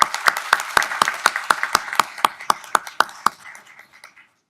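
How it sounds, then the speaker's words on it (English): Audience at a city council work session in Concord applauds, a burst of sharp close claps that gradually thins out and fades to silence. "a round of applause for all our Concord 101."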